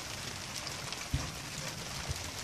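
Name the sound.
heavy summer rainstorm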